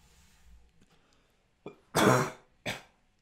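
A single short cough, then a louder, harsher cough and a final brief cough, close by and with no talk around them.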